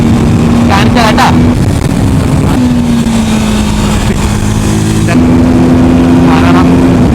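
A TVS Apache RTR 310 motorcycle drones steadily while riding and overtaking on the road, its engine note holding loud and close with slight pitch shifts, wind noise throughout and a rider's voice talking over it.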